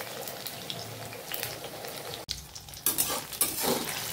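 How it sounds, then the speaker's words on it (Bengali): Thin eggplant slices frying in a pan give a steady, soft sizzle throughout, broken by one sharp clack partway through and a few light utensil scrapes near the end. "বেগুনগুলোকে আগে ভেজে নেব।"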